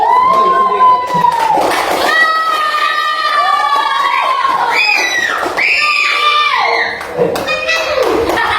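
Children in a classroom clap for a classmate, the clapping mixed with loud excited shouting and chatter that fills the whole stretch.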